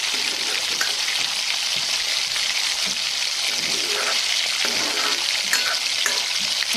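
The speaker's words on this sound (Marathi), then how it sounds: "आता हा आपण मसाला एक ते 2 मिनिट शिजवून घेऊ" A masala of red chilli powder, turmeric and garam masala, loosened with a little water, sizzles steadily in hot oil. The crackling frying is continuous and close throughout.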